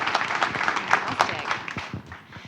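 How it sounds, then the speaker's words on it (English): A keynote audience applauds in a steady wash of clapping that fades toward the end, close and fairly loud. "let's just hear another round of applause for that lineup this morning"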